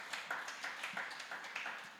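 A church congregation applauding during a service, a quiet, steady patter of many hands clapping with a slightly rhythmic pulse, heard alone.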